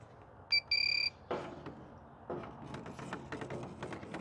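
Two short, shrill electronic beeps from a smoke detector alarm, followed by quiet clicks, taps and handling sounds.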